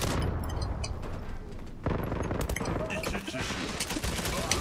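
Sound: gunfire in a video game firefight

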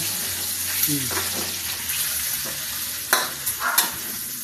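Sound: stir-frying in a wok

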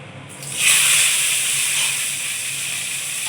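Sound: bitter gourd added to hot oil, sizzling

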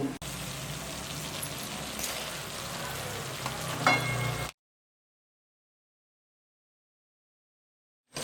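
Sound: alliv ladoo mixture being roasted in a pan

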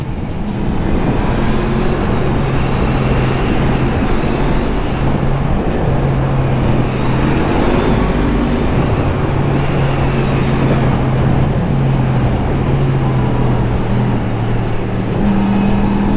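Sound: oncoming car passing on a country road

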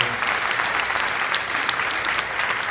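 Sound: audience applause

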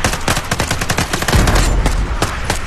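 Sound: gunfire in a video game

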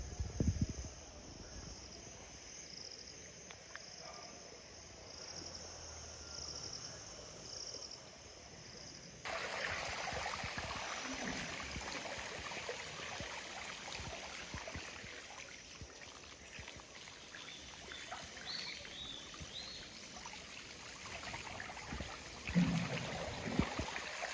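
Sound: water flowing in a canal after flooding

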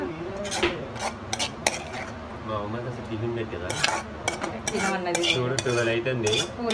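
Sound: adding boiled tomato and garlic to a cooking pan, stirring

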